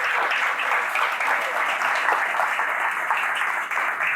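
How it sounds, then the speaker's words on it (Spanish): A church audience applauds performers after a dramatic skit, a steady wash of loud clapping from many hands that holds evenly throughout without speech. "Un aplauso para nuestros artistas."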